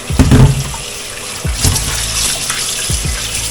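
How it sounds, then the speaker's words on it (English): Tap water runs into a sink to rinse pork bones for Filipino sinigang, a loud close gush with splashes and clatter as the bones are handled in the stream. "After this, we're gonna rinse it with water."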